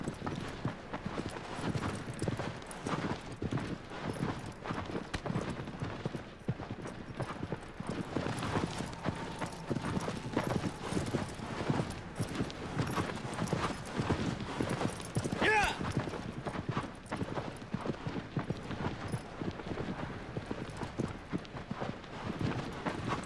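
A horse gallops at full speed in a video game, its rapid, continuous clip-clop hoofbeats pounding steadily and loudly for over twenty seconds, with someone talking over the top.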